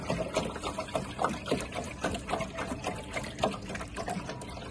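Water is poured to fill the bowl of a slushie machine: a continuous, moderately quiet trickling and splashing stream with small irregular bubbling bursts throughout, and no voices.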